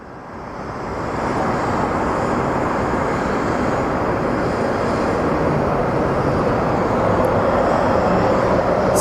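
A Delta airliner at Phoenix Sky Harbor airport rumbles with a broad, steady roar that swells in after a quiet start and holds constant at moderate distance, with no talk.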